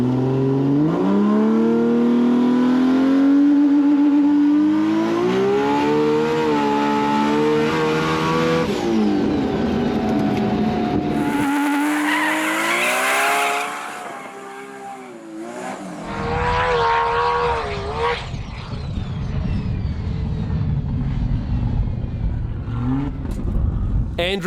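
A 2000hp Nissan GT-R race car makes a runway run, its engine revving loud and rising through gears, then a sudden cut and a roaring return with turbo whooshes, up close and sustained.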